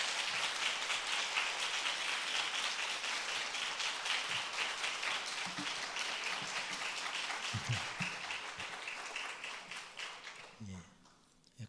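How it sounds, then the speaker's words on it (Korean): A church revival service crowd applauds to welcome the pastor, a dense sustained patter of many hands that holds steady, then thins and fades out near the end as a voice begins. "박수로 우리 박한수 목사님 모시도록 하겠습니다"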